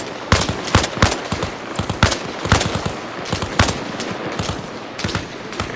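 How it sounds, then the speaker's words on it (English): Enemy gunfire in Arma Reforger on the Everon map, sharp rifle shots cracking in irregular bursts and single reports, some close and loud, others fainter, layered over a noisy battlefield background. "So now these guys, they'll just keep shooting."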